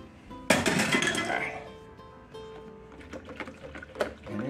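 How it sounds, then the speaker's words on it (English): A spoon stirs sugar into a glass of Southern sweet tea, giving a sharp clink followed by lighter scattered clinks and liquid swishing, close and moderately loud, with a voice briefly speaking. "just to stir it around."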